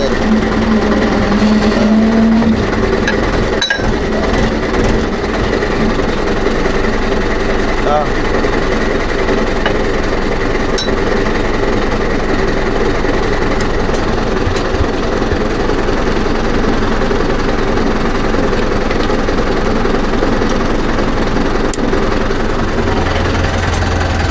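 A Mahindra or Yuvo 4WD tractor engine, working alongside a JCB 3DX backhoe on cow dung loading, runs steadily close by with a continuous mechanical drone and a couple of sharp clanks as the vehicle sets off.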